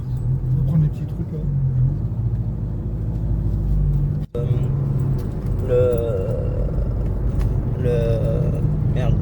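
Volkswagen Golf 6 TDI Stage 2 diesel hatchback driving, a steady low engine drone and road rumble heard from inside the cabin, with people talking over it throughout.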